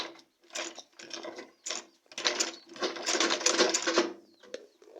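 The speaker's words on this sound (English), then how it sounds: "So you just keep sewing like that so that you achieve a straight stitches" Sewing machine stitching a box bag, its close mechanical whirring running in uneven bursts of rapid clatter with short stops between runs.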